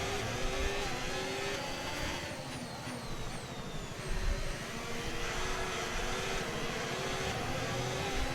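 F1 race car engines drone in the F1 25 video game at the Hungaroring, a steady, loud high-pitched whine with faint rising and falling pitch sweeps from nearby cars, continuous throughout with no voices.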